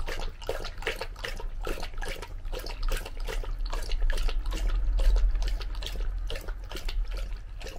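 Water runs steadily from a tap, a continuous broadband splashing rush with a low rumble that keeps an even, fairly loud level throughout.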